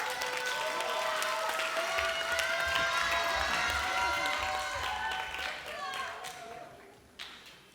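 A church youth group applauds a speaker coming forward, loud clapping with some cheering and chatter mixed in, fading gradually toward the end as a few last claps trail off.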